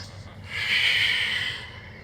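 During a yoga flow, one slow, deep breath is drawn in and let out through the nose as a soft, airy hiss. It swells and fades over about a second, close and alone.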